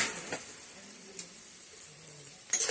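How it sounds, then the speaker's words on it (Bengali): Boneless meat and onions frying in oil, stirred now and then, make a faint, low sizzle with a few soft utensil scrapes and a sharper clatter at the end; no one speaks. "হালকা আছে নাড়াচাড়া করে কিছুটা ভেজে নেব"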